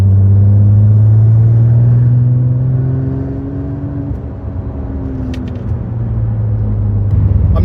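A Porsche 996 Turbo engine hums at a steady low drone from inside the cabin, pitch rising slightly then easing, with faint rattles near the end.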